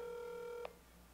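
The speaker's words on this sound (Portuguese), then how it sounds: "Eu tô escutando o telefone tocar." A telephone rings with a steady tonal buzz that cuts off abruptly partway through, in a quiet indoor room.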